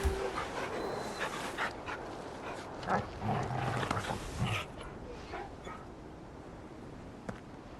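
A dog in the video game Final Fantasy 16 pants and whimpers softly, with light breathy bursts and faint noises that fade toward a quieter stretch.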